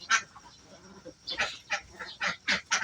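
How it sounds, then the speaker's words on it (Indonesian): Egg-laying ducks kept in pens quack loudly and repeatedly, the harsh calls overlapping in quick bursts from a close flock. "Jadi ini bebek saya yang sebanyak ini ada 8 petak"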